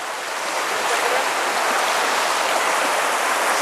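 A river stream rushing during a monsoon trek to the Dudhsagar waterfalls, a loud, steady broadband roar of flowing water that stays close and unbroken, with no voices.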